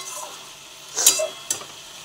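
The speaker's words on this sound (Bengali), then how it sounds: "এই তো এবার টমেটোটাকে এইভাবে ঘেঁটে দেবো" Spiced tomato masala for ridge gourd posto is stirred and mashed in a pan, a soft, quiet sizzle with two brief louder scraping strokes, no talking.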